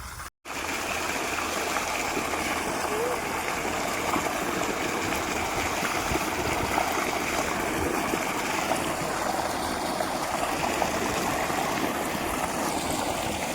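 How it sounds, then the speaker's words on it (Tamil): Water flows in continuously during a hair-shaving ceremony, a steady rushing splash like a stream that starts abruptly after a brief gap and stays loud and even to the end. "இங்கே வருது தண்ணி."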